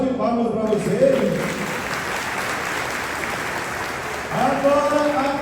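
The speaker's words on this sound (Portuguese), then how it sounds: "uma salva de palmas para vocês" A congregation claps during a novena homily to Saint Sebastian in church, a steady wash of applause lasting several seconds between stretches of someone speaking.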